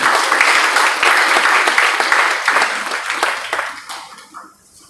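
An audience at a Premchand Jayanti program at M.V. College, Buxar, claps loudly in welcome, the applause thinning and fading away over the last second.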